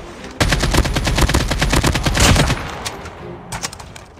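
Loud, rapid automatic gunfire in Call of Duty Mobile, a dense burst of shots lasting about two seconds followed by scattered, quieter single shots and short bursts, close and with no talking.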